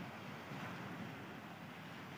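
Surf at Patar Beach in Bolinao, Pangasinan, just after dawn, a steady broad rumble of waves washing in, mixed with wind buffeting the microphone.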